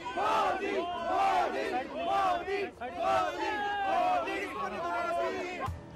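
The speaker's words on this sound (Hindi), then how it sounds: "पीएम मोदी को देखते ही मोदी मोदी के नारे लगने लगे" Crowd in Madrid chanting Modi's name, a loud rhythmic two-syllable chant repeated over and over by many voices at close range, briefly dipping before picking up again.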